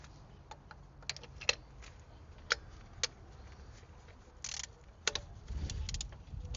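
Sharp metallic clicks and taps ring out irregularly as a socket wrench extension is fitted into a gasoline car engine for spark plug removal, close and fairly quiet, with a brief rustle and low rumble toward the end.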